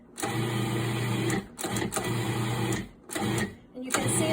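A food processor pulses pie dough in three loud whirring bursts of about one and a half seconds each, separated by short pauses, with the motor's steady hum running under each burst.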